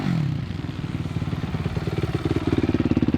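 A Kove 450 dirt bike engine pulls hard on the gas in a motocross lap, a close onboard pulsing roar whose firing beat quickens and rises in pitch as it accelerates toward a tabletop jump. No talk is heard.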